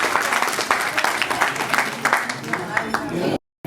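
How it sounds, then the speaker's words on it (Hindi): Audience applause at a 25th silver jubilee anniversary celebration after a performance, dense loud clapping from a crowd for over three seconds before cutting off abruptly. "जोरदार ताली।"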